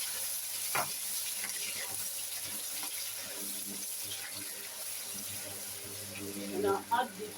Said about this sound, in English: Okay, I'll be frying our onions.